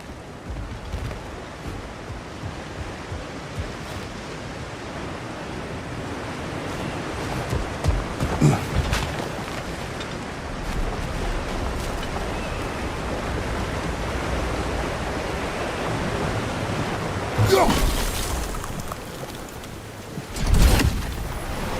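Water rushes overhead in God of War Ragnarök as a steady, broad roar like surf, heard from a moderate distance. A few louder swells and bursts rise out of it.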